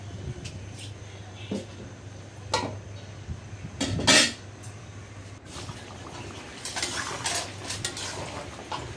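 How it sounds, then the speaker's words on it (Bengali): Taro stem being sautéed with prawns in a pan: a spatula scrapes and clinks against the metal in scattered strokes, with a faint sizzle and a wet trickle underneath. "ভালো করে আমি কষিয়ে নেব, যেহেতু এটা কচু তাই।"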